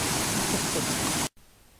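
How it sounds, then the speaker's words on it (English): Loud, steady broadband rush of a fast-running river in Wyoming near the Tetons, close by and continuous before cutting off abruptly near the end. "Boy, is that river ripping today."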